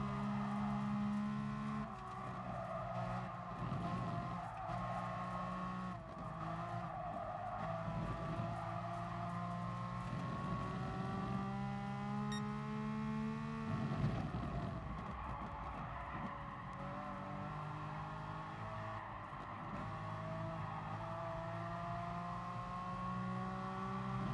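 Race car engines in the Gran Turismo Sport video game, a continuous loud drone of several cars with rising and falling revs, shifting pitch and bursts of tire squeal throughout, no talk.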